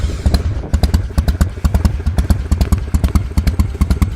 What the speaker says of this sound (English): they were the last engine to really have that iconic Harley-Davidson lope and idle